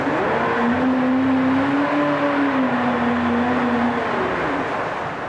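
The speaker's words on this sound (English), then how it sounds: "That's just part of running engine in a tank." A 1998 Johnson 90 hp two-stroke outboard motor runs steadily in a water test tank, a loud, even droning hum with slight pitch wavering and no talk over it.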